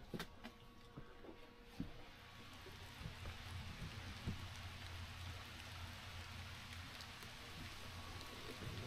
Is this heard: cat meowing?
no